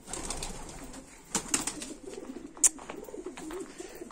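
Soft pigeon cooing and rustling close by at a kennel, with a few brief sharper bird sounds and fluttering, no talking.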